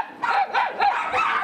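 Dogs at an animal shelter barking, several sharp, close barks in quick succession filling the short moment, loud and alone without talk.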